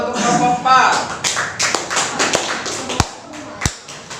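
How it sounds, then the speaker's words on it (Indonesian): Scattered hand claps for a student presentation group in a classroom, a loose, uneven burst of sharp taps with voices murmuring underneath. "Berikan tepuk tangan untuk kelompok 4."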